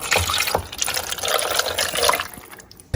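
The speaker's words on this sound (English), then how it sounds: "let's pour in this cup of beef bouillon" Beef bouillon poured from a cup into a crock pot holding a brisket, a steady close liquid splash and gush for nearly three seconds that cuts off abruptly at the end.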